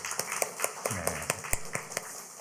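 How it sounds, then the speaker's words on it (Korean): Congregation clapping hands during a Sunday church service, a sparse run of about ten distinct claps at a steady rhythm, moderately loud with some room reverberation and no talking. "하나님께 한번 감사의 박수를 올리겠습니다"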